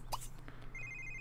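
A telephone rings faintly inside The Sims 3 video game, with a short electronic ringtone trill over a low background hum.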